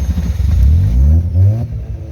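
A Mazda RX7 FC rotary engine revving up twice in quick succession, a close, loud, throaty rise and fall of engine pitch.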